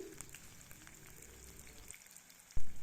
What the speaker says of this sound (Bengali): পেঁয়াজটা খানিকক্ষণ ভাজা হওয়ার জন্য সময় দিচ্ছি